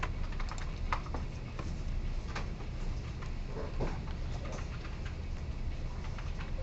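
Typing on a computer keyboard during a programming lecture, a quick run of faint, scattered key clicks over a steady background hum.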